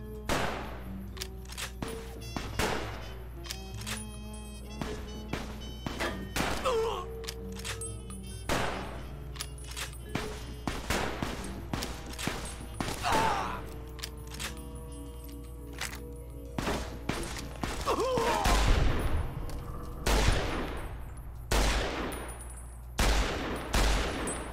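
Rapid gunfire with armor-piercing ammo in Fallout: New Vegas, sharp cracking shots in irregular bursts over a steady low hum of game ambience.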